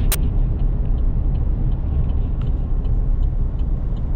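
Pickup or car pulling an empty hay wagon running gear with dry-rotted tires down the road at about 60 mph, a steady loud road rumble and engine drone throughout with a brief sharp tick near the start.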